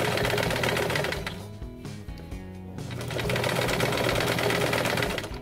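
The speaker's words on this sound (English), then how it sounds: "we're going to take it over to the sewing machine and sew up the side seams" A sewing machine runs steadily as it stitches the side seams of a fabric throw pillow, a close, continuous mechanical whir with one brief slowdown midway.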